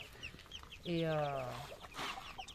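Young Brahma and Pekin chicks cluck in a short, clear tonal call, close up, with a brief spoken word and faint background chatter.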